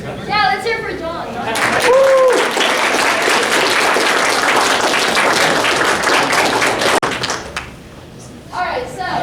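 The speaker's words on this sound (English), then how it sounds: "Yeah, let's hear for John" A room audience at a capstone presentation breaks into loud, dense clapping and cheering for a presenter, sustained for several seconds before fading, with voices calling out around it.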